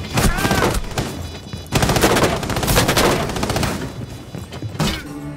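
Rapid automatic gunfire in the game Rainbow Six Siege, loud close bursts of shots that stop briefly and resume in dense, sustained volleys.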